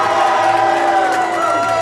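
Loud, dense crowd cheering and shouting at a wrestling bout featuring Nick Tyson and Trent Stone, a steady roar of fans that holds at full level throughout without letting up.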